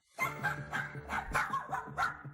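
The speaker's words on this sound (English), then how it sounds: "I need some help with my sister's dog, Chloe." A dog barks in a quick run of sharp, loud yips and woofs close by, roughly six barks in two seconds with no talking.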